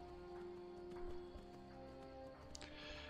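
Horse hooves clip-clop steadily in Skyrim, a continuous rhythmic trot with occasional whinny-like tones over a layered game music and ambience bed, moderately close and fairly quiet.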